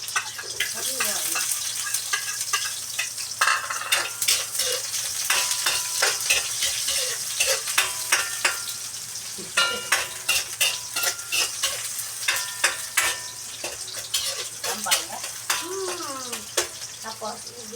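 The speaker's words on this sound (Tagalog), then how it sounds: "Guys, magigisa na si ate ko ng bawang at sibuyas." Garlic and onion sauté in a pan, a busy close sizzle with frequent clattering stirs and scrapes, and people talk faintly in the background.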